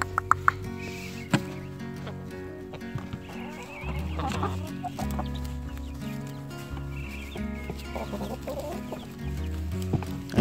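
Baby chicks, Barred Rock and Rhode Island Red, chirp and cluck continuously inside an enclosure. The high cheeps layer over one another with a few sharper clicks, moderately close.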